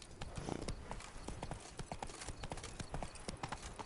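Galloping hooves of the horse Roach pound out a steady, fast clip-clop rhythm in a PS4 video game, close and loud, with a snort or whinny mixed in.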